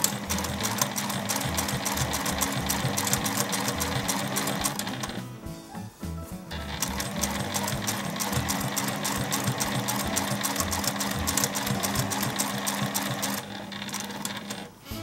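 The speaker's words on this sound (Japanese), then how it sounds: "ちょっとずつ縫ってください。" A sewing machine runs continuously while stitching fabric for dog clothes, a fast, loud mechanical rattle heard up close, briefly pausing near the middle and again near the end before starting up.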